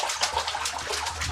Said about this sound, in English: John, get splashing.